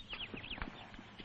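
Horse hooves clip-clopping at a steady walking pace on a hard surface, heard fairly close in a rural Chinese setting of the 1970s, with a few sharper knocks among the rhythmic footfalls.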